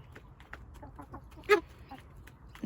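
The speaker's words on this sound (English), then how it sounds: "so he's in there with Claire, who is our other chicken who can't walk properly" Chickens in a backyard pen cluck softly and intermittently at moderate distance, with one louder squawk standing out midway through the short stretch of low farmyard noise.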